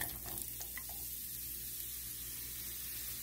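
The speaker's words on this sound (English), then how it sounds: "You can hear them sizzle up nicely" Steady sizzling of onions and peppers frying in hot oil, with a few clinks at the start before the frying settles into a constant hiss.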